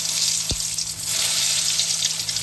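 Pointed gourd (potol) frying in white oil, a steady broadband sizzle throughout with a brief low thump near the start, close and continuous with no talk.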